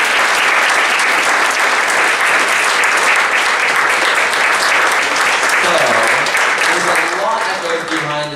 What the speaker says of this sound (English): Round of applause for Miss Kara.